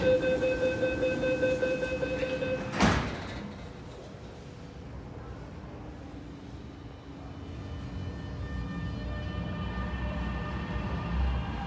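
An MTR train pulls into South Horizons station, a loud rumbling rush with a sharp clank near the start, then a steady wheel and motor roar that settles and swells again as it runs along the platform.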